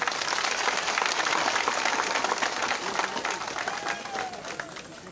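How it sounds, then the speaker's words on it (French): A dense crowd claps loudly and steadily at a university gathering held outdoors under a mango tree, the applause holding strong before easing off slightly near the end. "Il faut applaudir pour son humilité."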